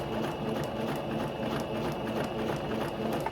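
A sewing machine stitches a tulle tutu skirt at a steady moderate pace, its motor whirring and needle clattering in an even, continuous rhythm throughout, close up with no talking.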